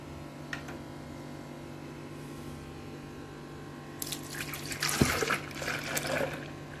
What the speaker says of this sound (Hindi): जो कि हमने दूध डाल दिया इसके अंदर,